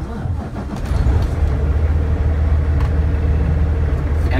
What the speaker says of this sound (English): Now I can safely start a truck.